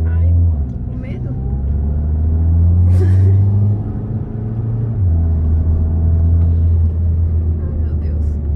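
An Audi TT engine accelerates hard in a steady, loud rumbling drone with shifts in pitch, heard from inside the car while people talk over it.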